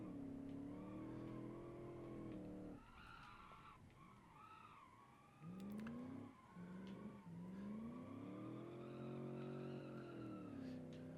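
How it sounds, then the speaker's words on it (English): A V8 convertible from the racing game Automation revs and drifts, its engine tone rising and falling in long sweeps while tires squeal through slides, with no speech over it. "That V8 still putting out quite a lot of power."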